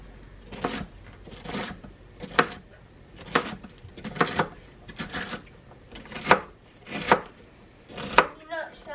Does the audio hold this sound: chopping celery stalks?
yes